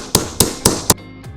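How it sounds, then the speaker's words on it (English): Four sharp hammer taps knock small parts flush into a ROKR 3D pinball model, evenly spaced and close, followed by a fainter fifth knock. "So hammer them down if you have to."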